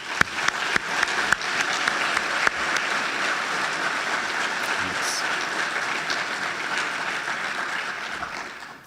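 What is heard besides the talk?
applause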